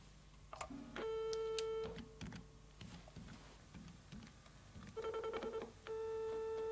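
A telephone dialed for a 1986 local TV call-in game: steady electronic tones and beeps come in bursts with pauses between, clear and alone.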